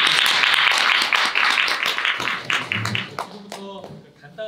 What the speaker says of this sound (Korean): 수고해주신 김윤 회장님께 다시 한번 큰 박수